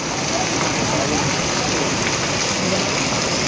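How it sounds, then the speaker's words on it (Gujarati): Steady rain pours over a village in Halvad taluka, Gujarat, during the first downpour of the season, a dense, even hiss that holds at constant loudness throughout with no other clear sounds. "આ જોઈ રહ્યા છો કે કેવો વરસાદ પડી રહ્યો છે તે"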